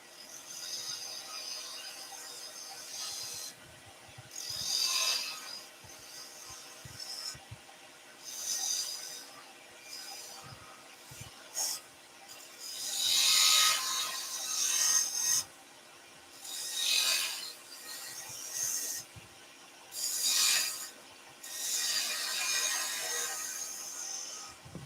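Rasping strokes of sandpaper on a wooden robot-shaped incense burner come in repeated bursts with short pauses between them, close and moderately loud.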